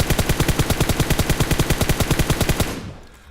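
Rapid automatic gunfire from a video game weapon aimed at a 50 meter target, a steady burst of evenly spaced loud shots lasting nearly three seconds before cutting off into a short fading tail.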